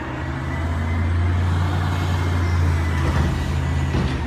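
A garbage truck idles and rumbles nearby, a loud, steady low engine drone filling the whole stretch.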